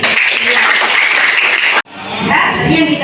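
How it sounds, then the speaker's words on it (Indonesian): Classmates clap for a student during a lesson, a dense steady round of applause that cuts off abruptly, followed by a softer rising patter of clapping and room noise. "Berarti tepuk tangan ke Ferdi."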